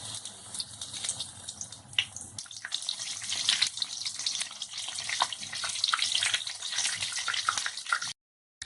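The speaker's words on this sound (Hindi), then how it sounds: "अब हम इसे फ्राई करेंगे" Green chili pakoras, battered and stuffed, frying in hot oil for a Ramadan iftar snack, giving a steady, close bubbling sizzle that swells slightly midway before cutting out abruptly near the end, with no talking.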